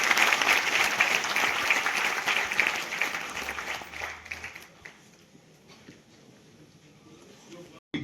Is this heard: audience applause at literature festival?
yes